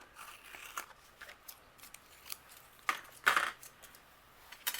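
Scissors snip through patterned card-making paper in a few quick, close cuts, with crisp clicking strokes and light rustling of the sheet between them.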